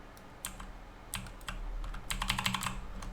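Typing on a computer keyboard, close, quiet key clicks in uneven bursts that thicken toward the end over a low background hum.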